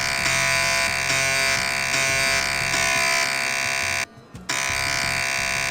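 A harsh, continuous electronic buzzing tone from a slot machine in the video game Fallout, loud and sustained, cutting out briefly for a moment before resuming.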